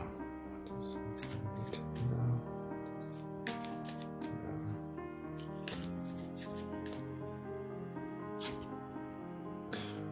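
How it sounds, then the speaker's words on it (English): Fairy oracle cards being shuffled by hand, a continuous papery riffle and flutter with sharp card snaps throughout, close and moderately loud. "I can get a little more clarification by pulling you a fairy oracle card real quick."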